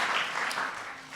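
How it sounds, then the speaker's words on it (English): An audience at a White House conference gives a brief burst of applause, a steady dense wash of clapping heard from a distance at moderate level. "And please give Vicki a big round of applause for the outstanding work she's doing to help"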